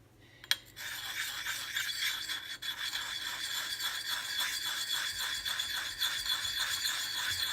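An axe blade is rubbed on a grinding stone puck in steady rhythmic strokes, a close, even rasping scrape after a brief knock at the start.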